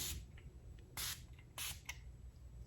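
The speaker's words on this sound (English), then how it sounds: "It's not an aerosol spray, but it does come out like an aerosolized product. And I just give myself a quick spritz." A pump mist spray bottle gives a few short, crisp hissing spritzes, close and distinct, separated by quiet pauses in a small room.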